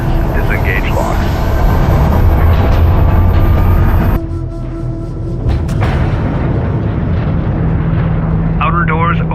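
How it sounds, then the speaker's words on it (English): Launch charges fire on a spaceship carrier in Homeworld: Deserts of Kharak, a loud, sustained rumbling blast that cuts off abruptly midway and then swells again, with voices over it. "Fire all charges."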